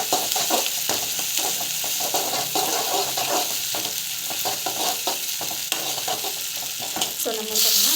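Chopped vegetables for rava kichidi sautéing in a pan, a steady loud sizzle of frying with repeated scraping stir strokes throughout, close up and without talk.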